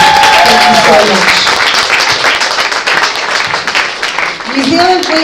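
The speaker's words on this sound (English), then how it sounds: "can we please give a massive tautoko round of applause for our three keynote speakers" An audience gives a loud, sustained round of applause for three keynote speakers at a women's health evening, dense clapping filling the room throughout, with a voice speaking over it at the start and end.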